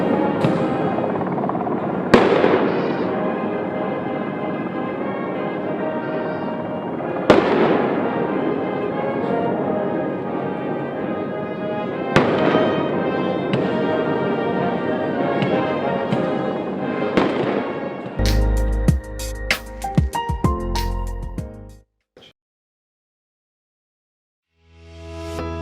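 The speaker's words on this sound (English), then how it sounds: "a salute flight by the South African Air Force, the national anthem, and a 21 gun salute." 21-gun salute cannon fire at South Africa's State of the Nation Address ceremony in 2026: heavy booms land about every five seconds over a steady, loud wash of background sound, ending in a burst of sharp cracks.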